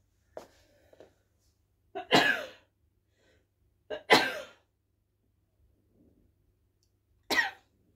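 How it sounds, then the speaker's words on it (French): Four short, explosive sneezes burst out close by, spaced a couple of seconds apart with quiet in between. "je vais éternuer"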